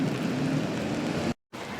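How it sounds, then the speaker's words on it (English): Rain falling outdoors, a steady, dense hiss of drops on surfaces at moderate level, broken by a brief cut to silence near the end before resuming. "And it's raining today"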